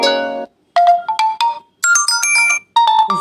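WhatsApp notification tone options previewed one after another on a phone: several short electronic chimes and melodic beeps, each separated by a brief pause, close and clear with no talking.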